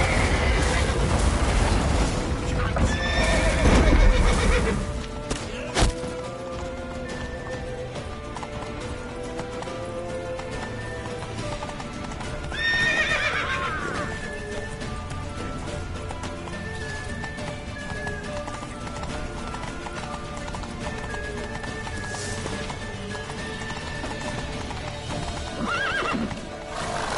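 Horse hooves clip-clop and gallop in The Witcher 3 video game, with neighs and whinnies over a steady background of game music and ambience, the hoofbeats loudest near the start.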